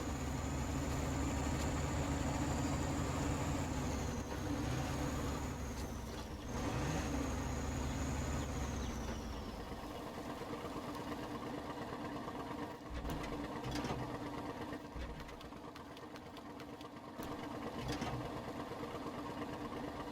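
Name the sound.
tractor engine driving through ruts in a farming video game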